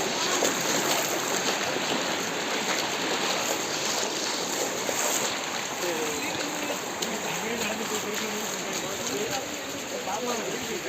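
Floodwater in Tirunelveli rushes steadily along a road, a continuous dense wash of flowing water with a voice speaking faintly underneath.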